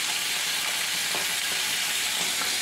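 Bhola fish pieces frying in hot oil in a pan, a dense, steady close crackling sizzle with faint occasional scrapes, no voices.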